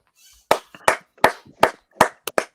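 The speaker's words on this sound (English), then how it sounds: "We don't have the clap machine, but we are the clap machine right now" A few people in a Chicago studio clap to welcome former Bulls guard C.J. Watson, about seven sharp, close claps in an uneven rhythm, with no crowd behind them.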